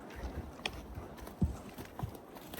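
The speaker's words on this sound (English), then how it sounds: "some people would never think about taking their horses over those logs like that" Horses' hooves clip-clop on a trail at a horse camp in Yosemite's Wawona area, with a few clear, uneven strikes standing out over a steady outdoor background.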